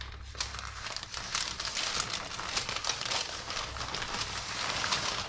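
Plastic bag crinkling around shaped ciabatta dough, a continuous dense rustle and crackle at close range that lasts throughout, with no talking.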